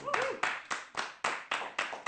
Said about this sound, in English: Thanks, a smattering of applause